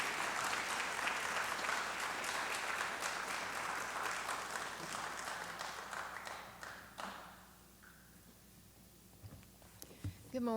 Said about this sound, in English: Let's give a big round of applause to Dr. Sandra Sharman to begin this convocation.